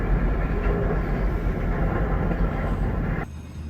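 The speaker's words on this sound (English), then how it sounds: "30 grain cars derailed like collapsing steel giants." Steady heavy rumble of a freight train with grain cars, loud and continuous, with dense low-end roar that cuts off abruptly near the end; no voices.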